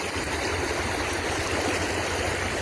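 The flooded Trask River in Oregon rushes and roars in a steady, dense wash of water, loud and close, with no break across the clip.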